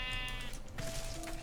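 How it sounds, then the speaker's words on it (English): A sheep in modded Minecraft (Forgecraft) bleats in a video game, a couple of short wavering calls close by over a busy background of game noise. "The sheep bawed at me."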